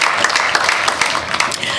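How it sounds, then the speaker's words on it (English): A crowd at the Torrance centennial birthday celebration applauds city staff liaisons, a short, loud burst of many hands clapping together close by. "they deserve a round of applause too"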